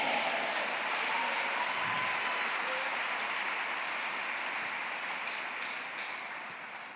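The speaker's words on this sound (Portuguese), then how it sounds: "Quem pode dizer amém e aplaudir ao Senhor?" A church congregation claps together during a worship service, a dense, steady wash of applause that fills the room and slowly fades toward the end.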